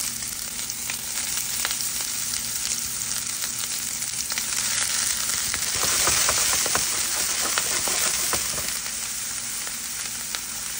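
Red onions hit a hot pan and sizzle steadily, a bright continuous frying hiss that swells midway with a burst of crackling pops, then settles back to an even sizzle.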